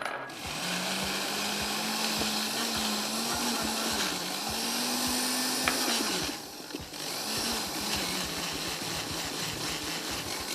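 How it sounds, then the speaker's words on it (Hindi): A struggling electric blender whirs loudly, blending mushroom pasta sauce with pasta water, its motor pitch wavering and briefly cutting out mid-run before starting again, with a steady droning whine and no talking. "पास्ता वाटर के साथ ब्लेंड कर देते हैं"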